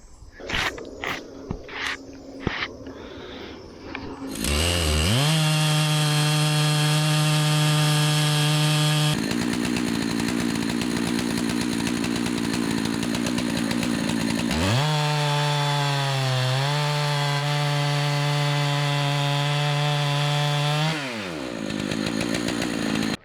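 A chainsaw mill cuts through timber from home-grown trees, its engine roaring steadily and loudly, dipping and surging as the bar bites through the log and briefly easing off between passes.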